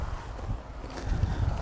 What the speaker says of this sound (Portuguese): O vento até que tá fresco hoje